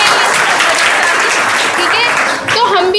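Dense applause from an audience for a woman teacher at a career counselling talk, a loud continuous wash of clapping that holds steady for about three seconds with a brief dip near the end.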